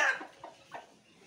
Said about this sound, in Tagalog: Medyo bata-bata pa po itong mga manok na ito eh.